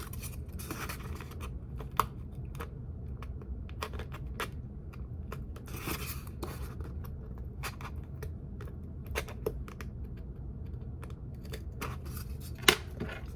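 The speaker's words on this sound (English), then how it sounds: "So I'll first slice a little bit with my carving tool." A carving tool slicing the edges of handmade dungeon tiles, quiet scattered scraping and cutting strokes, close up and faint, with one sharper click near the end.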